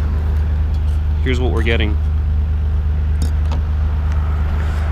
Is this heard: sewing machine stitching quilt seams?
no